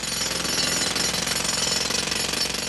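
A jackhammer pounds continuously with rapid, even hammering blows, loud and close, without a break.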